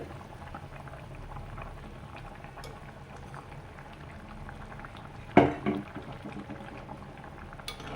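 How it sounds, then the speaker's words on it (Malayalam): Sardine curry cooks in a covered pot over the flame. A soft, steady bubbling simmer continues throughout, with one louder clatter midway and a faint knock near the end, and no one speaks. "ഇപ്പം നമ്മുടെ കറി നന്നായി തിളച്ച് വന്നിട്ടുണ്ട്"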